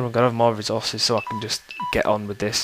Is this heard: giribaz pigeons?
no